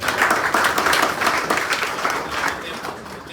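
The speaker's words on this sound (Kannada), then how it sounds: "ರಮಣ ಸರ್ ಗೌಡ ಸರ್ಗೆ ರಮಣಗೌಡ ಸರ್ಗೆ ಒಂದು ಜೋರ ಚಪ್ಪಾಳೆ" An audience of students claps loudly for Ramanagowda at a public gathering; a dense, continuous round of applause swells and then gradually eases, with some voices mixed in.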